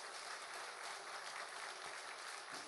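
Steady applause from a church congregation welcoming a standing member, dense even clapping throughout with no voices over it.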